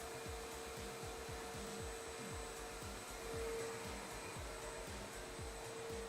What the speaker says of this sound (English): Grinder, please.